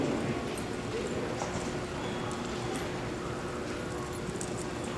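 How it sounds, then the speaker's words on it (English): A horse being lunged on a circle clip-clops with steady rhythmic hoofbeats, moderately close, against a constant wash of outdoor noise. "we're lunging the horses to be working the horse both directions"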